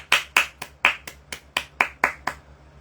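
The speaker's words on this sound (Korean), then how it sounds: "이렇게 박수 치는데" Hand clapping: about ten sharp, close claps in a fairly even rhythm over a few seconds, heard alone with no other sound around them.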